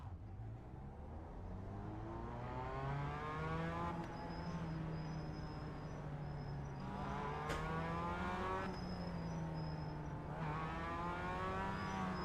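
Mazda MX-5 race cars on a warm-up lap at Zandvoort in iRacing, one engine close and steadily droning while rising and falling through the revs, with other cars faintly audible around it.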